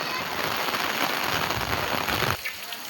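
Heavy rain pours down in a village during a storm, a dense, loud, steady hiss that drops away sharply near the end.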